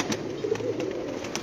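Pigeons coo softly on a rooftop loft, low burbling calls repeating faintly over a steady background hiss.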